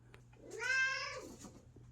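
A very old 15-year-old house cat gives a single clear, drawn-out meow that rises and falls over about a second, close and fairly soft in a quiet room.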